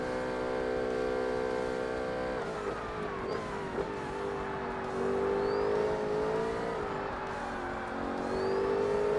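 Race car engine in Forza Motorsport, an R-P1 professional-class prototype, revving and accelerating hard with rising whine and gear shifts, loud and steady throughout without talk.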